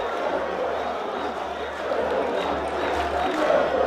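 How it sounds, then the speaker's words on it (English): Spectators at the Bukom Boxing Arena during a national featherweight title fight, a dense steady crowd roar that swells slightly toward the end, heard under a commentator's voice. "Crowd is ecstatic."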